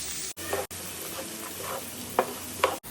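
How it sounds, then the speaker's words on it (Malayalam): Chopped onions drop into oil left from frying chicken and stir and sizzle in the pan for a few seconds, with brief clattery bursts of frying close by and no talking. "അതേ എണ്ണയിലേക്ക് നമ്മൾ സവാള ചെറിയ രീതിയിൽ കട്ട് ചെയ്തത് അങ്ങോട്ട് ഇട്ട് കൊടുക്കുക"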